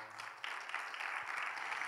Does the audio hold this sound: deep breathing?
no